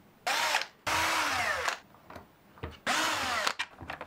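A power tool, likely a drill-driver, unscrews the housing of a Bosch POF router in bursts: three loud whirring runs of about half a second to a second each, with clicks and handling noise between them and no talk.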